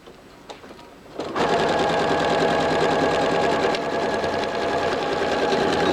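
After a few soft clicks, a sewing machine starts and runs fast and steady, close and loud, stitching a back tack on a ring sling shoulder.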